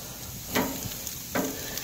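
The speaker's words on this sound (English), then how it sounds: "So as you can hear, the nice sound of sizzling." Steady broadband sizzle of food cooking on a grill, with two brief louder crackling bursts rising out of the constant hiss.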